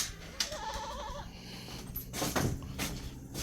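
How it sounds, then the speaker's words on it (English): Goats bleating inside a goat house, with a few short wavering bleats early on, then shuffling and clattering noises over steady background noise. "I have 1, 2, 3, 4, 5 goats in this area."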